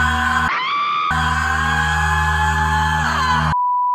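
A woman screams in a scene from the horror film Blacula: a loud, sustained, harmonically rich shriek that rises in pitch, breaks off briefly, then resumes at full strength before cutting out abruptly, leaving a steady electronic tone.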